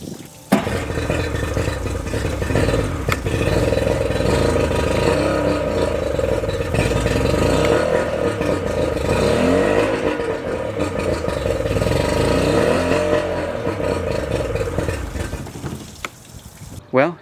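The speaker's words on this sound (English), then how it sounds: "at least the boat started well. It started on the first crank." A boat engine running and revving for a long stretch in a yard after a first-crank start, a loud continuous droning rumble that swells and eases, with talk over it.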